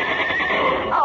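A horse whinnies as a radio-show sound effect, a loud, close, sustained neigh with a shrill, wavering cry that rises toward the end.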